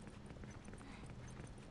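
Steady clip-clop of horse hooves during riding in The Last of Us: Left Behind, a continuous rhythmic trot under a dense game soundscape.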